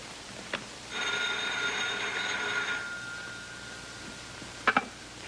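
An old telephone bell rings in one sustained burst lasting about two seconds, fairly close in a quiet room, followed by a couple of soft clicks as if the receiver is handled.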